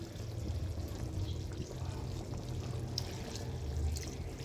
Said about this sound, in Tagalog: Lagyan natin ng konting tubig mga batang.